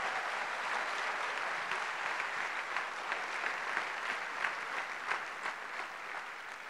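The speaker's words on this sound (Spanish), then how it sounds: "Dele fuerte ese aplauso a Dios." Sustained applause from a large church congregation, steady and fairly loud throughout, with no voices standing out.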